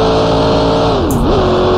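Vintage race car in Grand Prix Legends, engine droning loud and close with a sliding pitch that dips and recovers as the rear steps out under acceleration.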